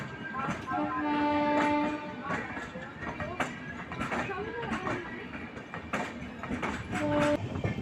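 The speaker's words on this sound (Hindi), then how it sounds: "ये आ रही है बरौनी से ग्वालियर तक जाने वाली बरौनी ग्वालियर मेल।" A Barauni-Gwalior Mail train rolls into an Indian railway station, wheels clattering steadily amid horn-like tones and busy platform noise, with a voice speaking over it.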